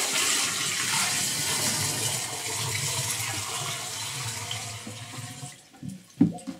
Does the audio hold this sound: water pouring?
yes